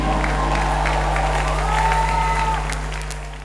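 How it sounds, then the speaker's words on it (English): Audience at a live interview event claps steadily with cheering and a few raised voices on top, a loud sustained wash that eases off near the end, over a low steady hum. "Come on, somebody clap your hand."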